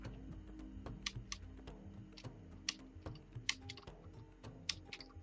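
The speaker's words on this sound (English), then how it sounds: "Can you hear my keyboard?" Soft, quick keyboard typing: irregular bursts of faint key clicks and taps over a low background hum, with no voices.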